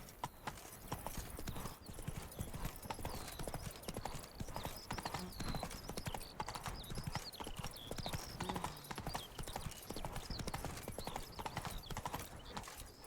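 Roach the horse galloping in The Witcher 3 video game, dense rapid hoofbeats close and continuous, with a rider's brief shouts and faint whinnies mixed in.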